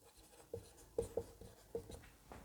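Chalk or marker strokes on a classroom board during a maths lesson, a series of short scratchy taps and squeaks in an irregular rhythm, close and fairly quiet.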